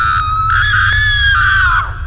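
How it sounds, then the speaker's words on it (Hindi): A cartoon scream from outside, one loud sustained high-pitched cry that slides slightly downward and fades over about two seconds, over a low background rumble. "तभी बाहर से किसी की चीखने की आवाज आती है।"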